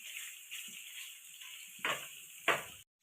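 Paneer cubes frying in oil in a pan until golden give a steady close sizzle and hiss, broken by two louder scraping bursts near the end before sudden silence.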